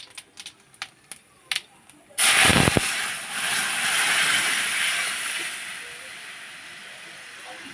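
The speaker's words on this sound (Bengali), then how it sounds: "চলো জিরা লঙ্কা ফোড়ন দিয়ে দিলাম এবার দুটো কাঁচা লঙ্কাও দিয়ে দিচ্ছি" Cumin seeds and dried chilies drop into hot oil in a karai as a tempering: a few light clicks, then a sudden loud sizzling hiss that steadily fades over several seconds.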